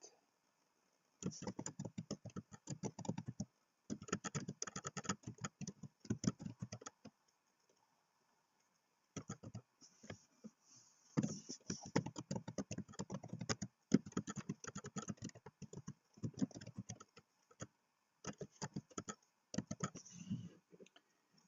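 Bursts of rapid typing on a computer keyboard while entering a user's details into a form, dense clicking keystrokes in several runs separated by short pauses, close and clear with no talking.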